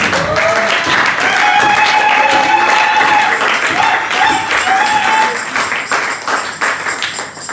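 A church congregation applauds loudly and steadily for several seconds to praise the Lord. The applause tapers slightly toward the end, and scattered voices can be heard in the crowd.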